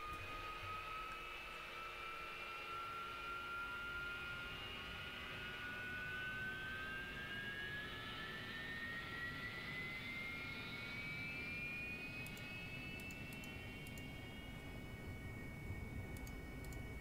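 A jet engine whines steadily as an aircraft taxis in the DCS flight simulator, its tone climbing slowly and evenly over a constant rushing roar with no talking.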